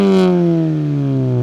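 A supercharged Mini Cooper JCW engine revs with a steady, descending drone, loud and close, settling into a rumbling exhaust note with pops and gurgles, no talking.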